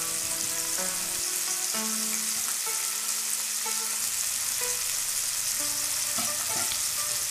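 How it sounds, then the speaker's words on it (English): Onions sauté in olive oil in a pot for shepherd's pie, a close, constant sizzle with scattered stirring clinks and scrapes over it, no voices. "we're going to start off by sautéing our onions"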